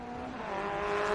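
Car 55, a Spectrum race car, exits the final corner at Calder Park during Victorian Trophy Tour racing, its engine a sustained, rising whine under steady track noise with no talk.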